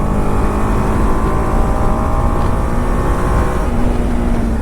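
Onboard, a BMW G 310 RR motorcycle engine hums with a steady, loud, rough drone while riding, the pitch holding fairly constant throughout with wind noise and no talk.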